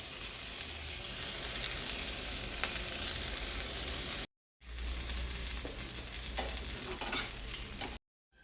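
Rava-coated Kallur fish shallow-frying in oil over a high flame, a steady dense sizzle with small crackles and pops, broken by two brief silent cuts.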